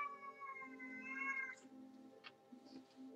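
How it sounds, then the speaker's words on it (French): Domestic cat indoors giving a long, drawn-out meow followed by a few shorter, fainter mews, close by, with no talk over it. "il miaule et ça m'empêche de me concentrer"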